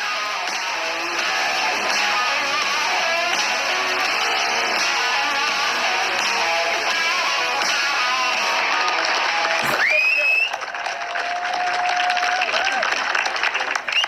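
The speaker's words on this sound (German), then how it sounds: "Oh, das ist ja eine Zuschauermenge" A crowd of spectators applauds in a steady, dense patter of clapping that runs for most of the stretch, then fades out near the end as a faint rising tone and softer background remain.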